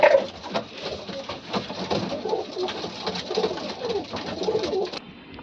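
Pigeons in a loft coo in soft, repeated throaty bursts, close and fairly clear against a quiet background, with no talk.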